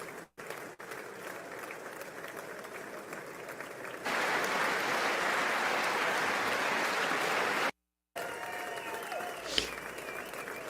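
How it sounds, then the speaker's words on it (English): A crowd on the floor of the U.S. Congress applauds during Benjamin Netanyahu's speech. Steady clapping swells to a loud, dense burst for several seconds, then breaks off and settles into softer, scattered applause. "A lot of applause there."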